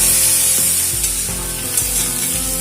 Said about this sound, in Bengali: খুব ভালো করে এঁচোড়গুলোকে ভেজে নেব।